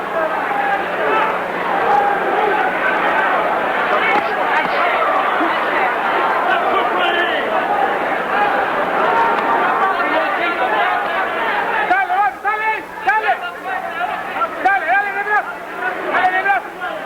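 A boxing arena crowd keeps up a dense, continuous roar of chatter and yelling during a title fight, with excited shouts swelling near the end and a commentator's voice mixed in.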